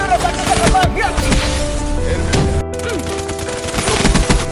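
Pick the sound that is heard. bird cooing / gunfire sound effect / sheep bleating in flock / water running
gunfire sound effect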